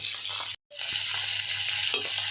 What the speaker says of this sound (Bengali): এই যে এখন দেখেন মাছটা কতটা ভাজা হয়েছে